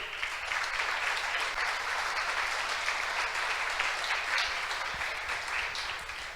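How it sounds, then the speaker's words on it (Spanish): A church congregation applauds steadily and loudly throughout, a dense, sustained clapping with no break and no speech over it. "Dale un aplauso al Rey"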